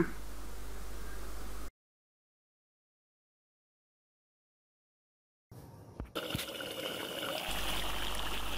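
Water pours and trickles into a pot of chicken feet, wings and potato curry, a steady liquid hiss broken by a silent gap, then resuming with a few knocks.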